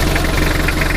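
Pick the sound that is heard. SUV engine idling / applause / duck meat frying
SUV engine idling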